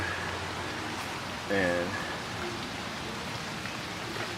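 Rainwater trickles down through a downspout pipe as a steady, fairly quiet rushing wash, with one brief spoken word near the middle.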